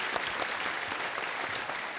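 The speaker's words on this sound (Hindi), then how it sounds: "नमस्कार और तालियों के साथ आपका स्वागत।" A TV quiz show studio audience claps steadily, a dense wash of applause that holds at an even level throughout.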